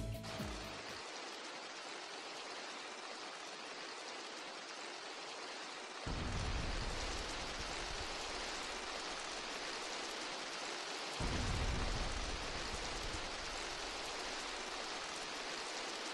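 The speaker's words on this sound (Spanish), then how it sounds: "lo único que puedes escuchar es la lluvia de afuera" Steady rain falling outside during a silent cutscene in the video game GTA The Trilogy, a dense, even hiss with no other sounds, getting slightly louder partway through.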